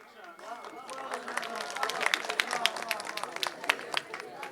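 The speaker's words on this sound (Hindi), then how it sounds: "ताली इतनी जल्दी मत बजाओ" Audience applause at a Hindi poetry recital builds into dense, scattered clapping from a crowd, rising in loudness, with a voice speaking over it at the start.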